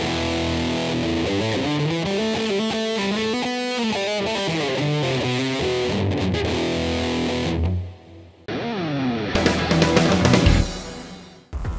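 An electric guitar played through a Boss DS-1W distortion pedal into a Fender Deluxe Reverb amp gives loud, saturated riffs and sustained bending notes, followed by a brief drop and a harsh, fuzzy burst of chords.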